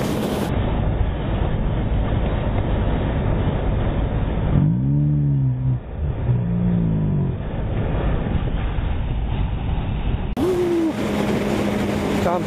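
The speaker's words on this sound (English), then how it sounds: "Ferrari just went by." A Ferrari sports car passing on a road in town near farmland, heard through steady wind rush and engine drone from a motorcycle ride, with a voice speaking briefly over the noise.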